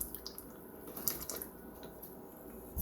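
Wet dough ingredients poured into a well in a mixing bowl of dry flour for a Chinese bakery bread, a soft, close liquid trickle and splash with a few light clinks, no talk.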